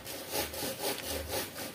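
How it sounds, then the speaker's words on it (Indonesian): A hand saw cuts through wood in steady back-and-forth strokes, a rhythmic rasping heard close up and alone for about five strokes. "kita pakai gergaji kayak gini aja"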